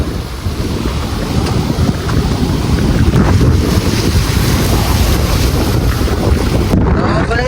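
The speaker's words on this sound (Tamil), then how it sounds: "இந்த பாறையிலலாம் வந்து இந்த அலை வந்து அடிக்குது" Sea waves crash against rocks near the Pamban bridge, heard as a loud, continuous wash of surf with heavy wind buffeting the microphone, and no clear voices.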